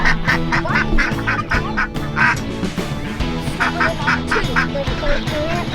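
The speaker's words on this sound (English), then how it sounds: "So that is all the ducks in here now." Ducks quack repeatedly in a pen on a New Zealand homestead, loud close bursts in rhythmic runs over a busy background, with no speech.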